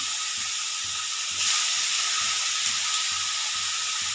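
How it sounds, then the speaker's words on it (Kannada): Bitter gourd sizzling on a very hot tawa, a steady broadband hiss with a brief louder burst, joined by a soft low rhythmic thumping underneath, with no voices. "ಇಲ್ಲಿ ತವೆ ಇಟ್ಟಿದೆ ನೋಡಿ ಕಾಸಿದೆ ಸಿಕ್ಕಾಪಟ್ಟೆ ಕಾದಿದೆ ಅದರಲ್ಲಿ ಹಾಕಿ ಹುರ್ಕೊಂಡ್ಬಿಡೋಣ"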